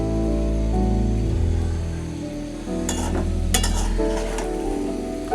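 A spatula stirs egg-fried grated bottle gourd in an oily pan with onion, giving soft scraping and a light frying crackle under steady background music, with a few sharper clatters midway.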